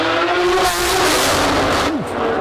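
Novitec Lamborghini Aventador SVJ revs hard in an underground garage, a loud booming engine roar with sharp crackles and a quick blip near the end, echoing and overloading the recording.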